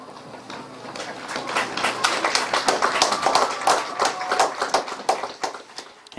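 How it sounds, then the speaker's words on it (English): A crowd at a high school homecoming football game claps steadily in a sustained round of applause for the homecoming candidates, the pattering claps rising and lingering for several seconds. "Let's give one more round of applause to all of our candidates."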